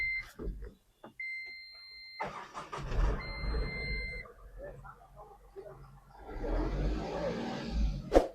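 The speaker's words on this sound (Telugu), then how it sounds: "అలాగే ఇంజిన్ కూడా స్టార్ట్ చేసి చూపిస్తాను ఒకసారి" An Ashok Leyland Bada Dost i4 LS light truck engine cranks and starts, followed by a steady idle with rough rumbling that swells near the end; several electronic beeps sound early on.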